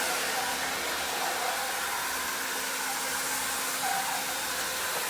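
A steady, loud whirring drone from an i-mop floor scrubber cleaning tile grout, running continuously and evenly the whole time with no voices.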